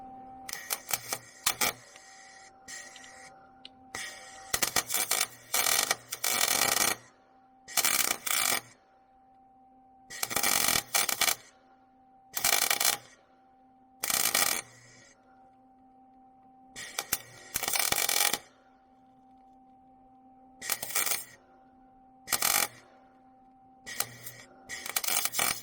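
Welding a broken exhaust manifold stud to extract it, a crackling arc in repeated bursts of a second or two separated by quiet pauses, close and sharp, with a faint steady hum underneath and no talking.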